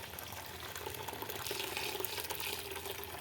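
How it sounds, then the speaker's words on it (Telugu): Hot water poured into a greasy kadai, a soft continuous splashing and filling rush that swells slightly toward the end, fairly quiet and with no talking. "ఇప్పుడు వేడి వేడి వాటర్ అయితే ఇందులోకి వేసుకుందామండి"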